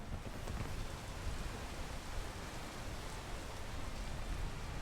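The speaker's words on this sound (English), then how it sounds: "waiting for the rain and the blizzards to stop." Rain in a video game played on a harder difficulty, with blizzards also under way: a broad, steady wash of rainfall noise, evenly loud throughout and unbroken, with no talk.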